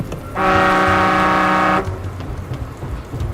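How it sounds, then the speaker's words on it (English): A loud, steady truck horn in the video game Dustland Delivery blares for about a second and a half, a deep droning tone over a background of rain. "Honk the horn."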